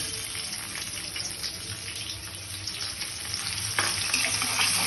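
Ginger, garlic and green chillies fry in oil in a wok, giving a steady, fairly quiet sizzle with a watery hiss that swells slightly louder toward the end, no one talking.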